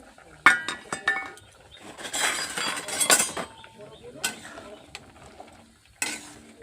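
Potatoes go into a pot of chickpeas with sharp clinks and clatters of utensils against the metal, a burst of splashing and stirring in the middle, then scattered knocks separated by quiet gaps.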